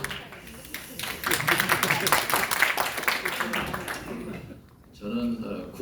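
An audience at a Korean historical forum and emergency debate claps steadily for a few seconds, the dense applause fading out, with a speaker's voice resuming afterward.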